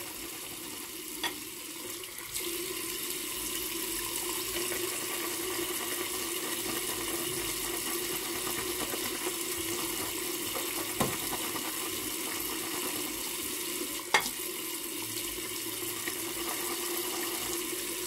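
A steady stream of water runs from a tap, a continuous hiss with a couple of faint clicks, no voices.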